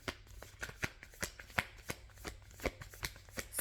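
A deck of cards is shuffled during a card reading, giving quick repeated riffling and tapping bursts at a near, even pace with no talking.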